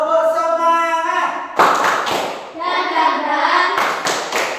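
A primary school class does the 'tepuk semangat' clapping routine, children's chanted voices giving way to bursts of sharp group clapping in a quick rhythmic pattern, with chanting returning between the claps.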